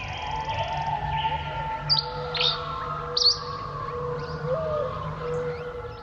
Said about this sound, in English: giving the day over to the song of birds.